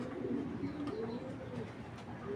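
A heavy, strong foreign racing pigeon coos in low, throaty repeated phrases close by, with faint room noise behind and no talking.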